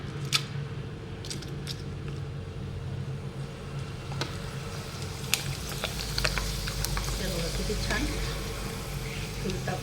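Sun-dried potato chips fry in hot oil with a continuous bubbling sizzle, close and fairly loud, while someone talks over it and a few sharp clicks and taps stand out.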